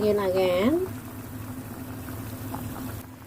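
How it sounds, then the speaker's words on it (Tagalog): Tuna kimchi soup bubbling in a pot on the stove, a steady low rumbling simmer that carries on alone after a brief voice at the start. "Okay, let it boil again."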